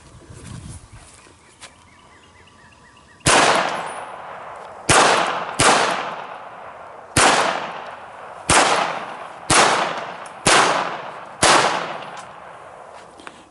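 A Beretta Model 89 Gold Standard pistol fires eight loud, sharp shots outdoors, spaced irregularly about a second apart, each with a short decaying echo after quiet ambient noise.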